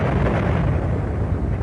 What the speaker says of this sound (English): Half the island of Krakatau disappeared with a bang that was heard as far away as Sri Lanka